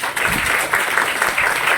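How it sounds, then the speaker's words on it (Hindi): Applause from an audience at a church youth conference, a steady wash of hand claps filling the room without a break, fairly loud and close. "उनके लिए एक जोरदार ताली बजाएं।"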